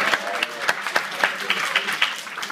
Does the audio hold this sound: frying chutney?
no